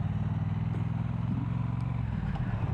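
Triumph Bobber motorcycle on a test ride, its engine rumbling steadily and close throughout with a low, even drone and slight variations in pitch, no voices heard.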